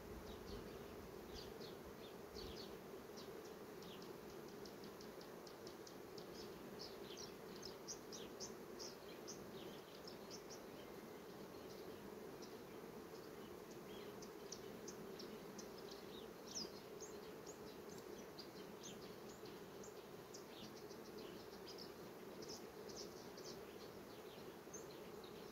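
Honeybees buzz steadily and densely at a hive during a queen cell inspection, a continuous close drone with faint higher chirps throughout and no talking.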